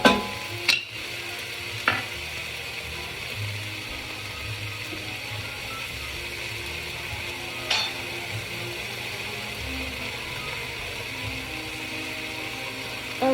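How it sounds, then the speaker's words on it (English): Diced garlic cooks down in a pot for chili with a low, steady sizzle, broken by a few sharp scrapes and knocks of a spoon as it is stirred now and then. "stir it up every once in a while."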